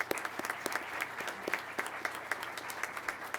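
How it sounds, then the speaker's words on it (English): Audience applause at an Undergraduate Pilot Training graduation ceremony for a pilot class, a steady patter of many hands clapping at moderate distance, with individual sharp claps standing out throughout. "So a round of applause for them."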